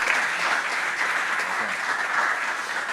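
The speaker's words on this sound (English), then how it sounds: "Give her a round of applause." An audience at a Bitcoin conference stage in Cape Town gives a short, dense burst of applause at moderate distance, steady throughout with no talk over it.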